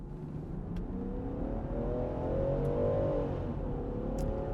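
A 2020 Land Rover Defender 110 P400 with a 3.0-litre mild-hybrid engine accelerates hard, its engine note climbing steadily in pitch, then easing off near the end, heard from inside the cabin with no talk.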